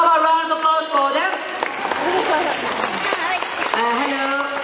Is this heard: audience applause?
yes